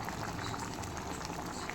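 Shrimp and soybean curry bubbles in a pan, a steady close simmering hiss with soft popping of boiling liquid throughout, no voices.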